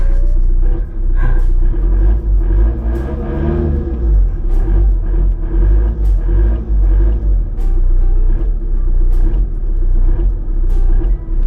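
A diesel engine fitted with an upgraded 12 mm rotor head and 8-hole nozzles revs up loudly and close, a heavy low rumble swelling and easing in repeated throttle blips with a ticking clatter over it.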